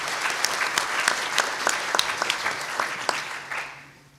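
Hall audience at the 2008 San Jacinto Symposium breaks into a round of applause, close, crisp individual claps over a steady bed that tapers off at the end.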